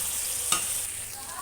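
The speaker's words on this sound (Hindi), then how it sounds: "और इधर मेरा पनीर भी रेडी हो रहा है," Paneer fries in a pan with a steady, bright sizzle throughout, and a single quick stir or scrape cuts in partway, with no talking.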